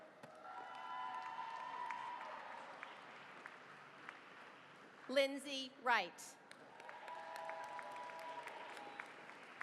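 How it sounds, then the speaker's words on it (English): Faint, steady applause at a nursing graduation ceremony as APRN graduates are named, the clapping soft and distant, broken midway by a speaker calling a name over a loudspeaker with ringing tones around it. "Let's give a huge hand of applause for all of the APRN graduates 2017."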